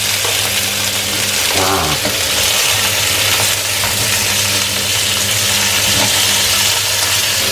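Shrimp sizzle and fry in a pan while being stirred, a steady loud crackle with engine-like hum underneath, a brief exclamation from a voice partway through.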